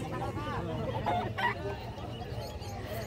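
Chickens at a Philippine pet market give short squawks and clucks, fairly close and moderately loud, mixed with crowd murmur and a person talking nearby.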